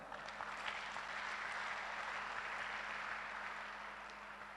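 An audience at a testimonial gathering breaks into applause, a soft, steady, even patter of clapping that holds throughout and eases slightly at the end, heard from some distance.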